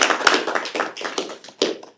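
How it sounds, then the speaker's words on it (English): Brief applause at a board meeting for the fire department, a small scattering of quick hand claps over two seconds that trails off. "We can give them a little round of applause."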